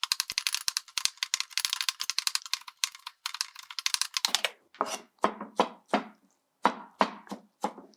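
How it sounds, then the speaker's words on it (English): Beets being chopped into small bits, starting with a rapid, rattling run of close knife taps on a board, then slowing into separate heavier chops with short pauses, no voices. "I'm going to chop it also into small"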